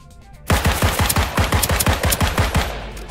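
Rapid automatic gunfire from a firefight in the spy shooter game Deceive Inc, loud and dense, with a burst of evenly spaced shots running for about two and a half seconds after a brief quiet start.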